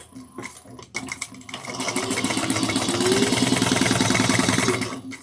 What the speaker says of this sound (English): I'm going to sew them at 3/8 of an inch.